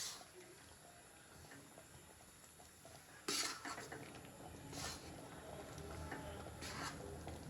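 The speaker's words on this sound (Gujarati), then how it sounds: "આપણે લોટ એકદમ બ્રાઉન રંગનો થાય ત્યાં સુધી શેકવાનો છે" Flour for adadiya is roasted and stirred in a pan, giving faint scraping and light clinks of a spoon against the pan, quiet and intermittent throughout.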